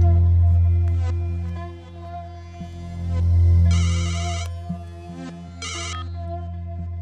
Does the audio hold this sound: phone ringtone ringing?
yes